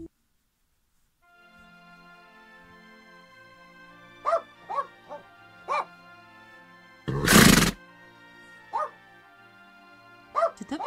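Dog barking in a cartoon setting, several short separate yips and barks spread out over quiet music, with one loud burst in the middle.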